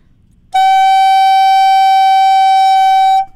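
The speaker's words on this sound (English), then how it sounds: "when we play a long and steady sound, it should sound like this" A single sustained woodwind note starts abruptly and holds perfectly steady at even loudness for about three seconds before cutting off, rich in overtones.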